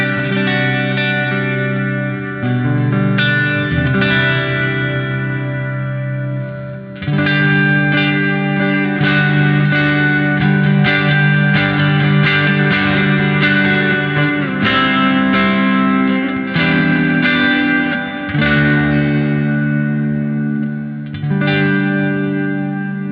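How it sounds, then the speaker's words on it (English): Electric guitar played through the reverb effect of a NUX MG30 multi-effects unit, sustained chords and notes blooming into a lush, lingering tail, loud and continuous with brief pauses between phrases. "Now let's hear the reverb. So I usually play with the reverb always on. So here's how the reverb sound."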